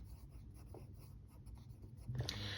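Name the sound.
writing on paper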